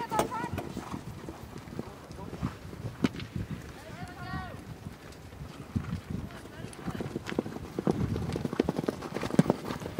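Hooves of a ridden horse clip-clopping in an uneven rhythm on the ground, moderately close, while people call out and talk over it.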